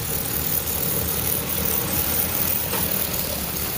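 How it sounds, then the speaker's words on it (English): A salt truck fitted with a snow plow and tire chains runs its engine nearby, a steady low rumble with broadband noise holding evenly throughout, with no talk. "That's a salt truck, a plow truck."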